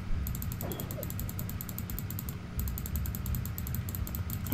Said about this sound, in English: Someone or something opened the door